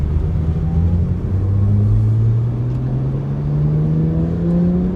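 A BMW 1M with freshly bedded Brembo GT brakes cruising along, its engine droning steadily and gradually rising in pitch as it accelerates, loud and close with no talk.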